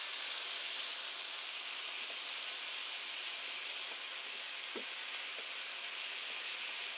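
Beans, carrots, peanuts, ginger and garlic stir-frying in a hot pan give a steady, close, loud sizzle and hiss, with a few faint knocks of stirring and no talk.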